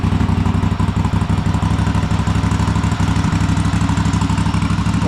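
Cub Cadet Super-LT1554 lawn tractor with a runaway engine, a loud steady near mechanical drone with rapid even firing pulses and a rattly clatter, held without letup and with no talking.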